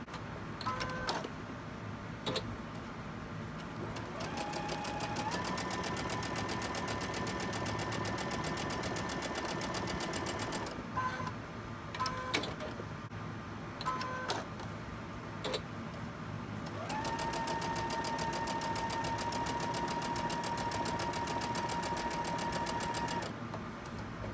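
A sewing machine stitches quilt block pieces in long, steady whirring runs with a fast ticking needle rhythm, broken by a few short pauses, close and even in level, with no voices.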